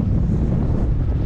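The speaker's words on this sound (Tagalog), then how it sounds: "kahit na medyo mahangin-hangin ang kunti" Wind blows at sea beside a floating fish pen and buffets the microphone with a loud, continuous rumble.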